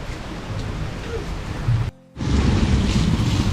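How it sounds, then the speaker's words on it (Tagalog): Steady, heavy rain roars as dense broadband noise, briefly cut off by a short gap before the downpour resumes just as loud. "Ayaw magtigil ang ulan."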